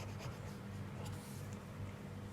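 Pen scratching on paper as accounts figures are written out, a faint, continuous scribbling close to the microphone with no talk.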